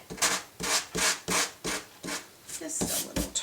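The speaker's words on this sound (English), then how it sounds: "I think I've just about worn my sanding pad out too." Hand sanding with a worn sanding pad, a steady series of about eight loud, close rasping strokes in an even back-and-forth rhythm.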